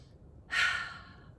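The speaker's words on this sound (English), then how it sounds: "Take a nice big deep breath" A single deep breath, one audible airy inhale-exhale swelling and fading within a second, close and clear against a quiet room.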